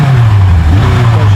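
Engine of a 1980 Kawasaki Z1R MK2 motorcycle with rebuilt carburetors, warm and running loud and close with a steady low throb that dips briefly and then holds.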